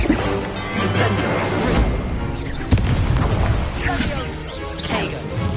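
An Incendio fire spell is cast in Hogwarts Legacy amid a stream of spell effects, with loud booming bursts and crackling impacts layered over game music, while a voice talks.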